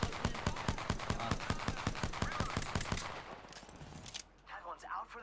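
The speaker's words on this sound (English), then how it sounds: "Opening fire." Rapid automatic gunfire in Apex Legends: a loud, fast burst of evenly spaced shots for about three seconds, then quieter game sounds and movement.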